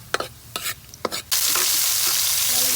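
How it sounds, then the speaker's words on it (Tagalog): Garlic sautéing in a pan for dinengdeng, with tomatoes then added: a few scraping stirs of a utensil, followed by a sudden loud, steady sizzle close up as the tomatoes hit the hot oil. "Gigisa muna nila sa bawang guys. Tapos ilalagay na po yung kamatis."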